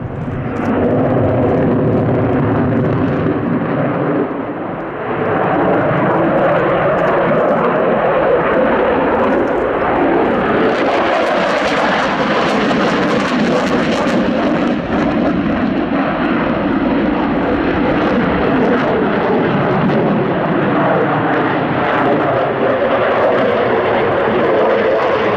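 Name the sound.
Dassault Rafale fighter jet flying overhead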